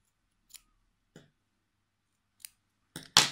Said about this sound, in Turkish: uzun olan bölümleri kırparak düzeltelim